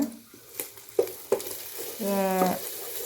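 Sliced onions sizzle in a pan for beef fried rice, with a low frying hiss broken by several sharp utensil clicks and taps against the pan and a short tonal hum near the end.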